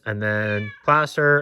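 A house cat meowing loudly nearby, one long drawn-out meow followed by two shorter ones, with a voice speaking at the same moment.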